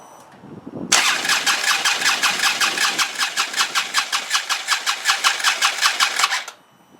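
A Harley-Davidson Road King with a broken fuel line cranks for about five seconds with a fast, even starter chug but never catches, then the cranking stops abruptly.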